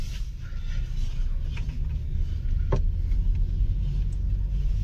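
Car pulling away after a gear shift near a market in Latori, Surajpur, Chhattisgarh, with a low steady engine rumble and road noise, a brief clunk partway, continuous and fairly close from inside the vehicle.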